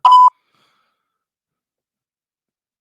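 A single short electronic beep from a pressed button on a machine, likely an answering machine, loud and close, followed by silence.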